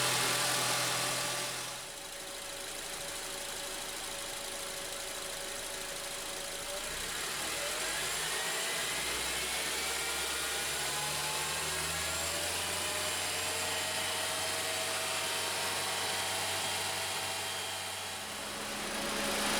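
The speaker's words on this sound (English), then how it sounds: "I'm going to let the vehicle warm up till the cooling fan comes on," A 2003-2007 Honda Accord 2.4L four-cylinder with automatic transmission idles steadily while warming up, a continuous mid-pitched engine drone that stays even throughout, with a faint shift in tone partway through and no talking.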